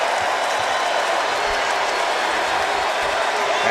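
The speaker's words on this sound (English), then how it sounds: "And that gets the crowd going." A basketball arena crowd roars after an alley-oop, a dense, loud, sustained wash of cheering and noise that never lets up.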